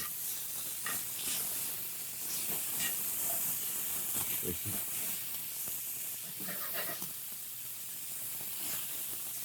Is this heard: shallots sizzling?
yes